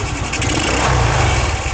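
Rusi motorcycle engine running after a carburetor swap, a loud, close, steady idle with a dense rumbling putter and no voices over it.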